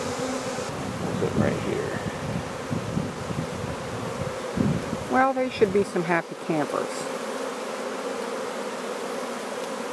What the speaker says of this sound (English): they're definitely gentle bees